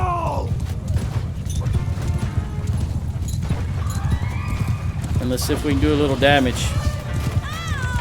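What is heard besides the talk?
cavalry horses charging in Mount & Blade II Bannerlord video game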